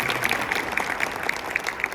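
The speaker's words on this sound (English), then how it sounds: "You guys can applaud." Moderate audience applause at a college night for freshmen, a steady wash of clapping with a few sharper individual claps standing out near the front.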